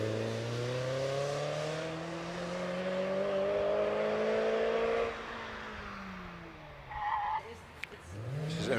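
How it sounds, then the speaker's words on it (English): An 11-year-old 2-litre Mazda MX5 races up the Prescott hill climb, its engine note rising steadily under hard acceleration, shifting once, then pulling away and fading into the distance. "Here's the 2-litre MX5 of Sean West."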